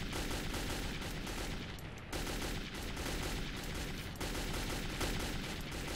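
Gunfire in the Metro 2033 video game, dense continuous automatic shooting with rapid overlapping shots, loud and unbroken apart from two brief pauses, with no speech.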